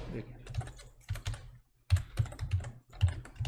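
Rapid bursts of typing on a computer keyboard while entering data into a materials list in AutoCAD 2021, close and clear, the key clatter coming in clustered runs separated by brief pauses.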